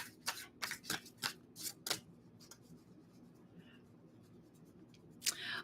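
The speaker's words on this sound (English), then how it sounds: "Want to shuffle real good" A deck of tarot cards is shuffled in a quick run of crisp, rhythmic riffles close by, then a pause of near quiet before one more brief shuffle.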